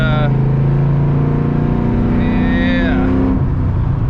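A 2001 SVT Cobra with 4.10 gears pulling in fourth, heard from inside the cabin as a loud, steady engine drone that rises gently in pitch, then eases off near the end.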